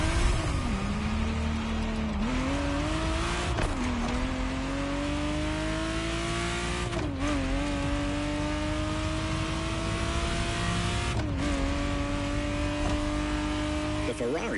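A Ferrari Testarossa in The Crew Motorfest racing game drives hard, its engine note climbing repeatedly and dropping at each gear shift, loud and continuous throughout.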